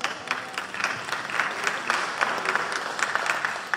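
Audience applause in a Brooklyn lecture hall during a 2016 talk, dense steady clapping from many hands sustained throughout, moderately loud with no voices on top.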